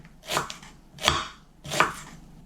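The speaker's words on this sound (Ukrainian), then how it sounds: "нарізаю цибульку ось такими напівкільцями" Three slow, evenly spaced knife strokes cut an onion into half-rings on a board, each a crisp slicing crunch, close and quiet with no talking.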